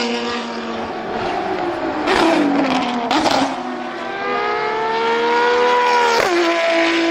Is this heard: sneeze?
no